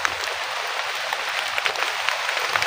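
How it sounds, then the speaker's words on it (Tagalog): Heavy rain pours down in a dense, steady hiss with scattered sharper drops pattering close by, loud and unbroken for a few seconds. "Malakas ang ulan mga idol."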